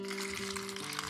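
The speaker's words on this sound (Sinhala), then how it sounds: "දැන් ඉතුරු වතුර ටික මේකට එකතු කරගන්නවා." The remaining water is poured into a homemade ant-repellent mixture, giving a close, continuous splashing trickle that lasts about a second, with no voices.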